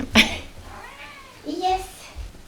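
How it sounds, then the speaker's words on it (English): A pet cat meows close by in a couple of drawn-out calls, with a person speaking around them indoors. "I hope now she will not meow in front of the door"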